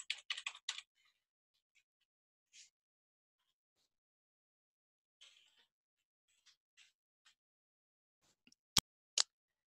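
Typing on a computer keyboard to log in to a library catalog account: a quick cluster of close keystrokes, then sparse scattered taps and clicks, ending with two sharp louder key presses, with no talking.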